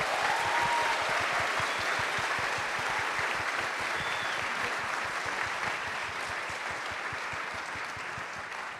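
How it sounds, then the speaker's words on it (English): An audience claps steadily for a panel, a dense patter of hands that holds at an even level throughout, with no voices above it. "can we have another round of applause for our panelists?"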